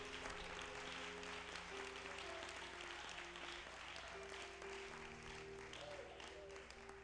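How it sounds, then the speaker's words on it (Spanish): A church congregation claps as an offering of praise during a worship service. The applause is fairly faint and steady, with sustained organ or keyboard chords and some voices underneath. "Dele ofrenda de palmas a Dios."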